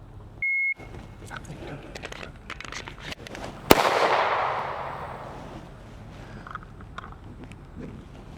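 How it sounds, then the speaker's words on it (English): A shot timer beeps, then magazine-handling clicks mark a tactical reload with a Glock 17 pistol and an extended magazine, followed by a single loud, sharp gunshot with a long echoing decay, close and alone. "at the beep, we'll perform the tactical reload, and then we'll assume the threat has revived, and I'll fire a shot"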